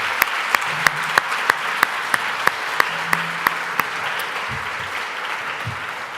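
An audience at an event in Brussels applauds after a discussion with Yair Lapid, sustained clapping with distinct loud claps recurring in a steady rhythm close by.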